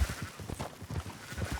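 Low, wavering sheep bleats in Red Dead Redemption 2 overlap in a brief burst, a small flock calling nearby with a soft bleating rhythm.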